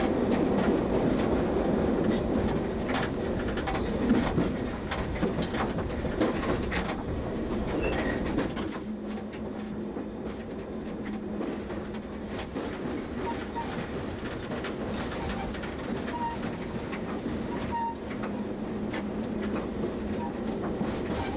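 An East London line train rolls steadily between stations with a continuous rumble and rhythmic clickety-clack of wheels on rail joints, the sound dropping to a smoother hum partway through and a few birds faintly audible.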